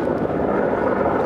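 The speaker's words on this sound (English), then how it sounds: "Different helicopter. I don't think that one sees us." A helicopter flies over the Los Angeles River during a police pursuit, its steady broadband rotor and engine roar filling the air at close range, loud and continuous with no voices.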